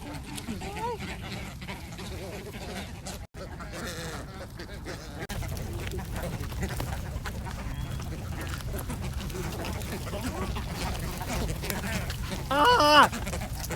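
Ducks and other fowl quack and honk steadily while being fed bread outdoors, with a louder burst of calls near the end and a voice speaking briefly amid the flock.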